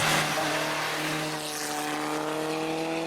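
A Škoda 200 RS rally car engine drones loudly and steadily, its pitch holding at a high rev with rushing road and rain noise around it.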